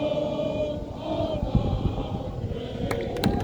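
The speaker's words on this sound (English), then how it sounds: "the student section quite literally showed up and started singing." A high school football playoff crowd's student section sings the national anthem together after the stadium PA cuts out, a dense, distant wash of many voices.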